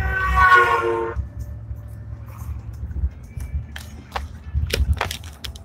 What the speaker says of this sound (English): Somebody honking at me.